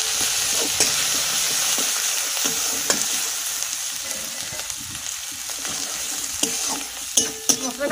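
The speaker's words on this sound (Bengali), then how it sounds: "মশলাটা ভাজা ভাজা হয়ে গেছে," Ground turmeric, Kashmiri chilli, cumin and coriander powders sizzle steadily in hot oil while being stirred, with scraping clicks from the spoon over a continuous close frying hiss; no voices.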